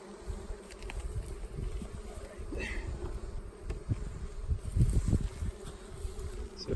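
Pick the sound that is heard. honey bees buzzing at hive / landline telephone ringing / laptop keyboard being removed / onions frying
honey bees buzzing at hive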